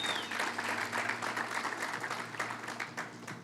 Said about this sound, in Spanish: Démosle un aplauso a él, aleluya